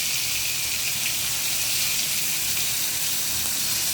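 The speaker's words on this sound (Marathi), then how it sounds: "तेल तापले, आता जिरं, मोहरी आणि हवा ठेचा।" Cumin, mustard seeds and chilli paste sizzle in hot oil, giving a steady bright hiss that stays close and even throughout, with no voices.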